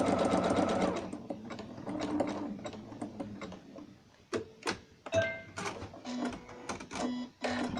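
A sewing machine stitches a seam on a round cushion form, a fast close mechanical whirring chatter at first, then lighter intermittent clicks and short runs of stitching.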